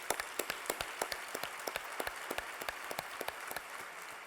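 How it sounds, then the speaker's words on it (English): A small group applauds at an awards speech, the quick distinct claps coming steadily for a few seconds at moderate distance without any voices. "So please give yourself a big round of applause."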